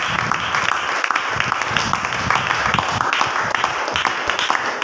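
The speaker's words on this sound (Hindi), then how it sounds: "क्या प्रभु के लिए धन्यवाद की ताली दे सकते हैं?" A church congregation claps together in thanks to God, a dense steady wash of applause throughout, with some voices mixed in beneath the clapping.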